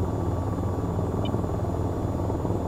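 An AH-94 helicopter hovering in the flight game VTOL VR gives a steady, loud rotor and engine drone with a dense low rumble, constant throughout and with no speech.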